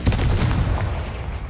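Confringo blasting spell going off in Hogwarts Legacy on PS5: a dense, loud burst of booming, crackling impacts that rolls on for over a second with a heavy low rumble, no talking.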